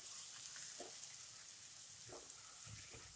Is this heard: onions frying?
yes